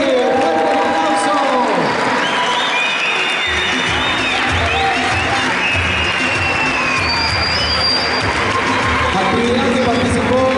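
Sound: applause at school sports closing ceremony

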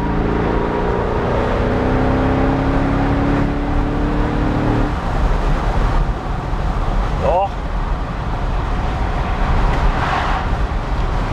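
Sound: Mercedes S 63 AMG Cabrio driving at speed on road

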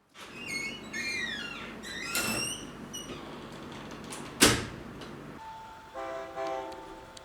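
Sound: train at Bang Sue railway junction

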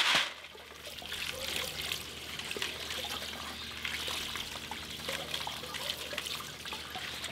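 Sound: washing sapphire gravel in water

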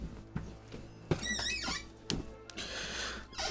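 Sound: squeaky chair squeaking in South Park video game

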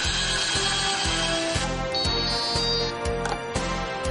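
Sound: fiber stripper automatically stripping an optical fiber

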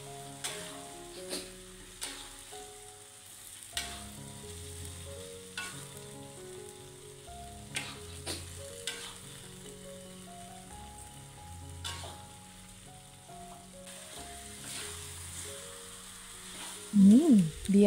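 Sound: fried chicken being stirred in balado chili sauce

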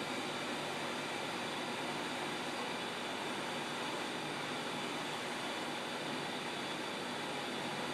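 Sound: vacuum cleaner running in another room

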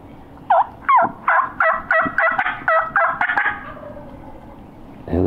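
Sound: wild turkey gobbling

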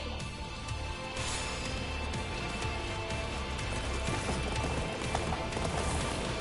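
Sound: horse hooves clip-clopping in a video game

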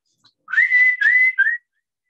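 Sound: person whistling, imitating a bird call

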